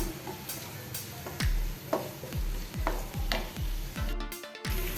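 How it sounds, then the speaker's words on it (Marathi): Onion, ginger and garlic fry in a pan over a low flame for a broccoli bhaji, a steady sizzle with a series of sharp, evenly spaced scraping and tapping strokes as a spoon stirs the pan, close and with no talk. "आता त्याच्यामध्ये आपण आलं लसूण घालूया आणि ते पण आपण दोन मिनटं फ्राय करून घेऊया"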